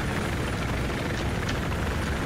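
A helicopter in Battlefield 4 thunders close by, a loud, steady rotor and engine roar filling the moment without a break.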